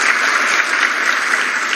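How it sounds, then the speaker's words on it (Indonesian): A church congregation applauds during an Indonesian sermon, dense and loud continuous clapping filling the room evenly from start to end without voices. "Tepuk tangan buat Tuhan."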